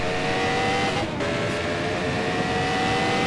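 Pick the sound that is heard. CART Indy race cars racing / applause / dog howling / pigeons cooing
CART Indy race cars racing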